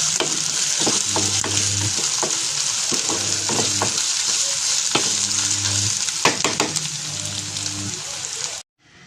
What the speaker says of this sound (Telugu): ఈ అల్లం వెల్లుల్లి పేస్ట్ పచ్చి వాసన పోయే వరకు కొద్దిగా రోస్ట్గా వేసుకోవాలి